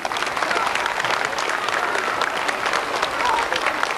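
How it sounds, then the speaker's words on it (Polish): An audience at a couples' dance contest in Kostrzyn nad Odrą breaks into loud, continuous applause, dense clapping holding steady the whole time. "Brawa!"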